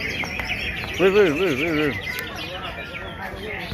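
A cucak ijo (green leafbird) at a songbird contest sings a brief warbling phrase, clear over a noisy crowd; a man makes a short exclamation.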